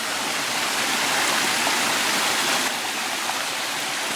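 A waterfall rushes with a dense, steady roar of falling water, loud and unbroken throughout, heard up close without any voices.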